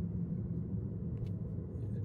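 Low, steady road rumble from a Chevy Silverado EV RST pickup towing a 7,700 lb travel trailer on a snowy mountain road. The rumble stays faint and even through a short stretch, with no motor whine and no talking.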